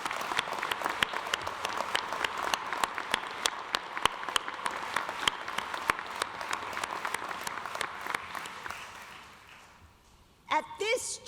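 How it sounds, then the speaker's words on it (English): Audience applause at a Jesuit Catholic university's graduate school commencement ceremony, a steady wash of many hands clapping at moderate volume that gradually fades out, followed by a brief burst of voices at the end. "Let's acknowledge that with a round of applause for everyone"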